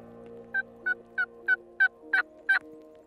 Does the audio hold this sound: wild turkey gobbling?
yes